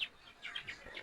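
Thirty-day-old female quail chicks at a quail farm give soft, high, repeated chirps in a quick run, faint and fairly close, with no talking.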